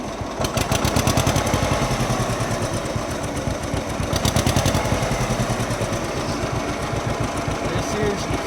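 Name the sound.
John Deere 50 tractor engine running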